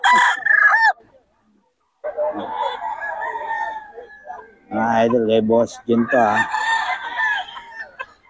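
Roosters crow repeatedly and chickens cluck close by at a poultry market in Bocaue, with a voice talking between and over the calls.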